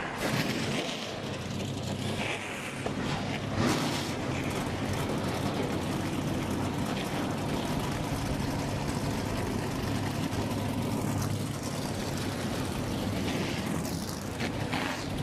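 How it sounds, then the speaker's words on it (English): ARCA Menards Series stock cars at Kansas Speedway fire up and rumble together in a steady, dense engine roar that carries on without letup, heard from a distance across the track. "Drivers, start your engines."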